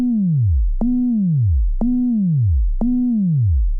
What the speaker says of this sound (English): And we get this really crazy bass sound that sounds a little like this.